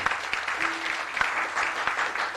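A church congregation clapping in praise to God at an anniversary service, a steady patter of many hands with a few sharper claps standing out, moderately loud.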